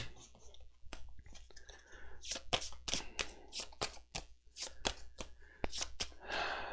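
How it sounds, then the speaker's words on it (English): Pile shuffling a deck of game cards: quick papery slaps and flicks as cards are dealt onto piles, a close, irregular patter of soft snaps on a quiet tabletop. "I'm going to pile shuffle real quick"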